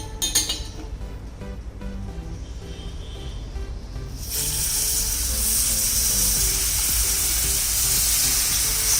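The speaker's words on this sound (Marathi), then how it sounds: "आपल्याला आता हे जे आपण गूळ वितळवून घेतलाय ते पाणी घालायचं यामध्ये" Warm melted jaggery water is poured into hot roasted wheat flour for a wheat halwa, and a loud, steady sizzling hiss bursts in partway through after a quieter stretch of light clinking.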